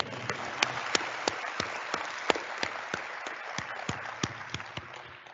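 Sparse, steady clapping at a university student convocation, individual sharp claps repeating at an even pace over a soft background, sounding like a small audience or a few people rather than a full crowd.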